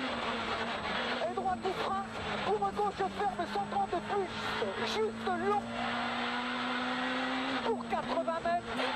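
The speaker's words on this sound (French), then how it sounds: "on retrouve Johan Bonato au volant de l'Opel Adam R2" Opel Adam R2 rally car on a wet stage at Rallye du Limousin, its engine revving through repeated rising and falling gear changes, steady and fairly close, with a commentator talking over it throughout.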